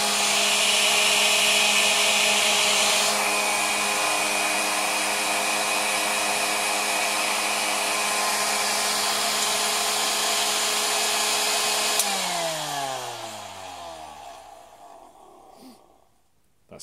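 Vintage Pifco hair dryer, a Hi-Speed Model 1050 or Princess Model 106, blowing with a loud, steady motor whine and rushing air that holds evenly, then winds down and fades as it is switched off near the end.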